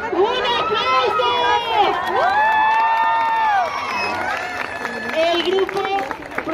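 Young crowd at a lively show for a children's group cheering, whooping and clapping continuously and loudly, with excited shouting voices layered throughout.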